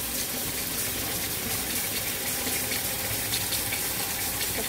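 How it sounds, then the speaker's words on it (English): Running water pours steadily as soap is rinsed out of freshly dyed yarn, a dense, even, close rushing flow without pauses or voices. "Give this a little wash."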